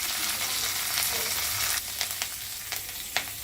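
Curry leaves, ginger and asafoetida crackling in hot oil as a tempering for sundal, a dense close sizzle followed by a few sharp spatula scrapes and stirs in the pan.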